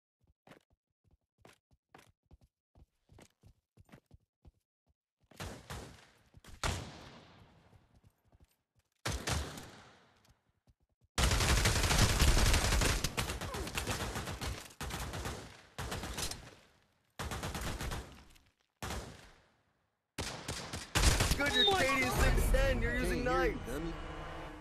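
Gunfire in the VR shooter Pavlov: scattered faint single shots early, then loud dense bursts of rapid automatic fire in repeated clusters separated by short pauses, with chattering voices in the later part.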